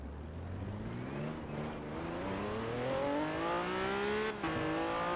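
Acura NSX widebody with high-grip setup in Forza Horizon 4, its engine revving and climbing steadily through the gears with rising harmonic pitch, loud and continuous, a brief dip near the end, no talk.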